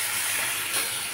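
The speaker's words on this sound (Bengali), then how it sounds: "তাই পরিমাণ মতো জল দিয়ে দিলাম" Water hitting a hot pan of goat mutton curry gives a brief, steady, fairly loud hiss of steam.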